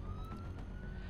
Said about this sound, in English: I don't know if you can hear that police siren in the background.